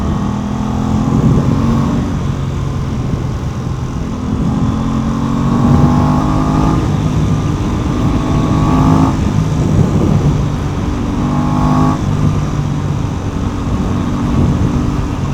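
An Aprilia RS660 sport motorcycle ridden in commute mode, its engine droning steadily close by with gear changes and rising pitch sweeps, accompanied by constant wind and road rush throughout.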